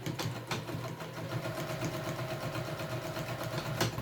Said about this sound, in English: we're just going to top stitch all of our top card slot pieces